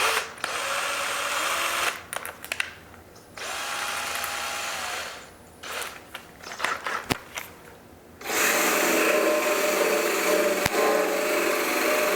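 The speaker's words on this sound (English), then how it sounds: "I'll again grab my drill, put on an attachment so I can just get it off." A power drill whirs with an abrasive attachment grinding paint off a motorcycle part, running in several loud bursts separated by short pauses, then a long steady stretch.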